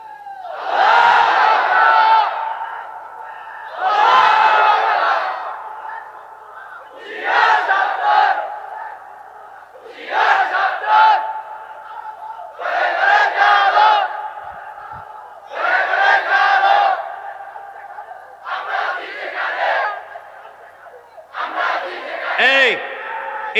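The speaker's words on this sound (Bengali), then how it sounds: "ভালো তাকবীর দিতে পারেন এমন একটা যুবক দেখে দাঁড়ায় তাকবীর দাও তুমি" A large crowd at a religious gathering near Narayanganj shouts takbir in loud, repeated bursts every few seconds, with brief pauses between each roaring chant.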